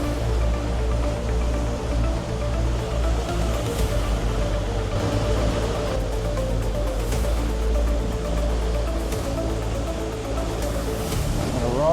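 Ocean swell rolls and breaks in a continuous rushing wash at the Wide Bay bar, off a sailing boat's side, with a low engine drone and wind buffeting underneath.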